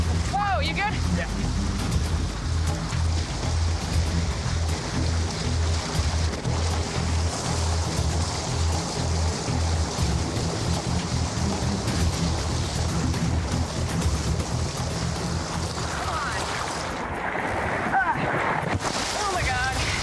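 River rapids rush in a loud, continuous roar mixed with gusting wind, persisting nearly throughout with a brief dip near the end, while people speak over the noise.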